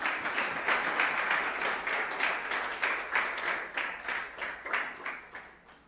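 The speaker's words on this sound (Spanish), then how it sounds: "Den un aplauso al Señor." A church congregation applauding after a sermon, a dense, loud wash of many hands that pulses in waves and gradually tapers toward the end.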